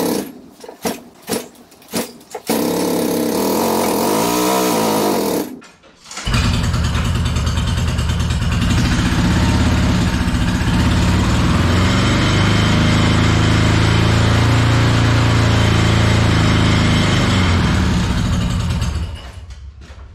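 A Yamaha XS650 motorcycle engine with a charging system fault gives several short cranking bursts and catches on the next try. It settles into a loud, steady idle and runs for about fifteen seconds before shutting off.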